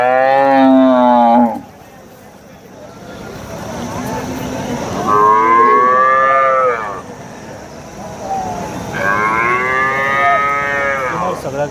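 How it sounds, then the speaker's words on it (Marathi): Jersey cows at a busy cattle market in Vadod, Phulambri, lowing in three long, loud moos, the first near and the later two slightly softer, over a steady crowd murmur. "गाय बैलांचा बाजार असतो"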